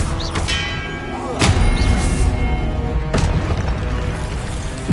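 Expelliarmus and other spell effects in a Hogwarts video game: deep booming thuds and bursts, with a few strong hits standing out over a rumbling game background.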